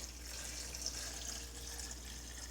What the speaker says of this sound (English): So I've got a sanitized funnel here. I'm going to pour this without spilling too much, hopefully.